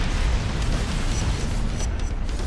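A rocket launcher explosion in the video game inFamous, a loud, sustained rumbling blast that fills the whole clip with dense low-end roar and no clear separate hits.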